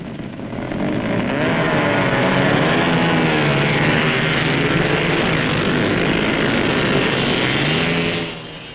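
NSU racing motorcycles at the 1954 Dutch TT streaking off from the start: a loud, continuous, wavering engine roar of several machines together, rising and shifting in pitch as they pass, then dropping away at the end.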